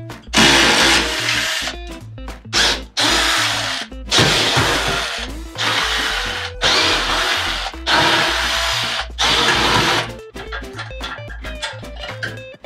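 Power tool, likely an impact wrench or drill, running off 12mm bolts that hold the metal rear bumper beam on a 10th-gen Honda Civic hatchback, in a series of loud close bursts of a few seconds each with brief pauses between them.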